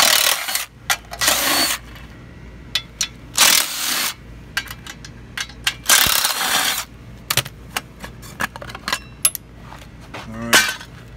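Cover screws being backed out of a Comet 40 series torque converter with a hand tool: irregular metallic clicks, ratcheting and small clinks near the mic, separated by several louder bursts of handling and scraping, no talk.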